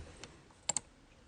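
Computer mouse clicks: one soft click, then a quick close pair of sharper clicks, against quiet room background.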